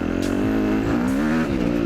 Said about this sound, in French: Là c'est juste histoire de vous faire voir un petit peu la nouvelle moto, vous faire voir le son